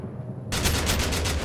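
Rapid automatic gunfire in an online shooter video game breaks in suddenly after a brief quiet moment, then continues as a dense, loud burst of shots.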